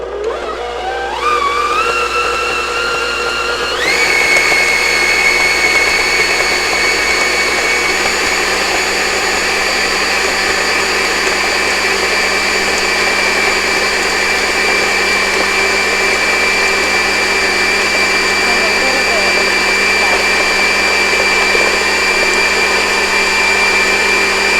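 An electric hand mixer whirs up after a brief start and then runs loud and steady, a continuous close whine that holds without pause.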